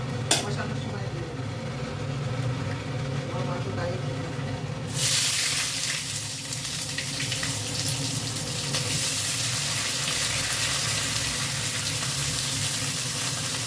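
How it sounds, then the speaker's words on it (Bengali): Chopped onions hit hot oil already holding whole garam masala and bay leaves, bursting into a loud, continuous sizzle partway through after a quieter stretch of low cooking noise. "পেঁয়াজটা ছেড়ে দেওয়া হলো, পেঁয়াজটা একটু ভাজা ভাজা হয়ে গেলে তারপরে মাংসটা দেওয়া হবে।"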